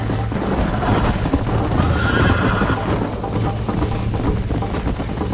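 Horse hooves pounding at a gallop in the Western video game Red Dead Redemption during a race, with steady clip-clop rhythm, snorting and a brief whinny over a continuous low rumble of movement.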